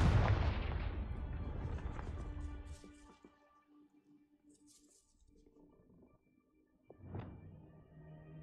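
A Confringo blasting spell explodes in the video game Hogwarts Legacy with a loud, close boom that decays into a rumbling tail, followed by faint debris clinks and a smaller thud a few seconds later.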